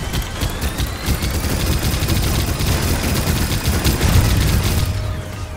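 Rapid, sustained gunfire from a copter making a strafing run in the Robocraft video game: a loud, dense chatter of shots rattling continuously for several seconds, with no voices over it.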